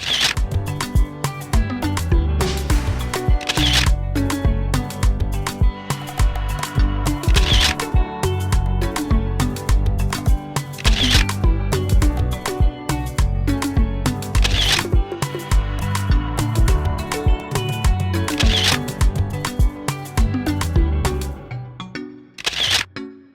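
Camera shutter clicks from an action camera setup, sounding as a long run of sharp repeated mechanical clicks with periodic louder bursts, close and prominent, ending abruptly.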